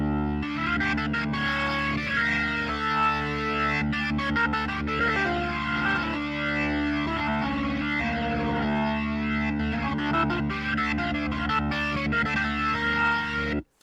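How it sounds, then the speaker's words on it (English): A keyboard with a distorted, effects-heavy tone plays a continuous melodic run up a harmonic minor scale, steady and full, ending abruptly. "This is the harmonic minor sound."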